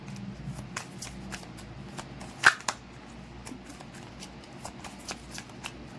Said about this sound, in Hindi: stay positive till I shuffle the cards guys